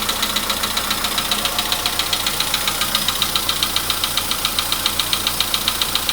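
A Volkswagen Polo sedan at about 100,000 km idles with a loud, rapid metallic engine knock. The tapping is fast and evenly spaced, sits close over a steady engine drone, and continues without a break.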